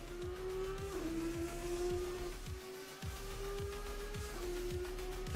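Race car engine in Assetto Corsa Competizione at Oulton Park runs at high revs, its pitch rising in repeated steps through quick gear changes, with a couple of downshift drops. The sound is steady and fairly quiet, with no voices.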